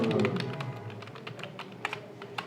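Keys clatter on a computer keyboard in quick, uneven bursts of typing, close and fairly quiet, ending with sharper separate taps like the Enter key being pressed.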